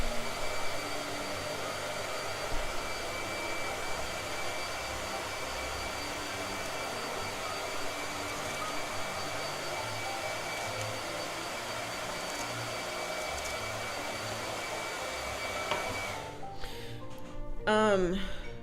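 A blow dryer runs at a steady, loud roar for most of the stretch, then cuts off near the end, leaving brief scattered sounds.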